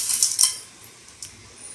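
Sugar being stirred into jackfruit halwa in a pan, a few bright metallic scrapes and clinks of a spoon against the pan, loudest early and then sparse.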